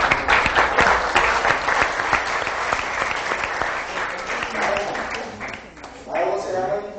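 Applause from family members at a 1997 Schield family reunion, a dense burst of clapping that fills the room for several seconds, thinning toward the end as voices come through underneath.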